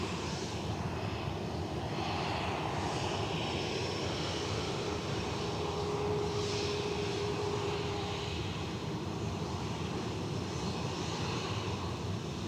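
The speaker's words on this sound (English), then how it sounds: "BizJet's 2 out, the Farnborough Cessna 560 XL citation" A Cessna 560XL Citation business jet takes off at Edinburgh Airport, its engine roar a steady, distant broadband rumble that holds evenly throughout without other voices.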